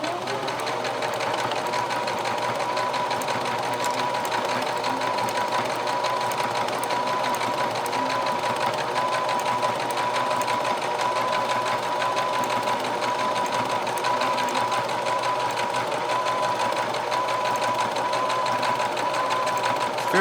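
Sewing machine running a steady, continuous satin stitch to tack a nameplate onto a football jersey, an even mechanical whir with a constant tone that holds without a break for the whole stretch, with no talking.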